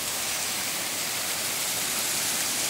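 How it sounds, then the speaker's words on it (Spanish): Heavy rain pours down in a dense, steady hiss with no breaks, loud and close, with no voices. "No manches, está lloviendo bien fuerte."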